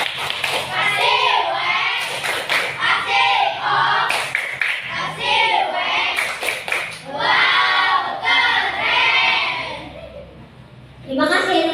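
A class of children performs the 'tepuk wow' clapping chant in a classroom, with sharp rhythmic hand claps running under loud, continuous chanting voices throughout.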